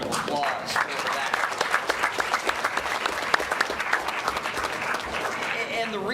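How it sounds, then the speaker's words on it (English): At a school board meeting, the crowd gives a round of applause for unified bowling support-services students, a steady wash of many hands clapping for about six seconds, with a voice faintly audible at the start and end. "I'd like to have a round of applause for that"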